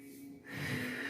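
A breath drawn and then let out steadily through the nose during a yoga stretch, close and soft, one long airy exhale after a brief intake.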